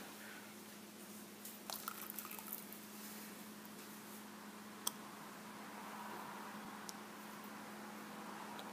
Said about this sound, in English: the glass bottle is filling up with water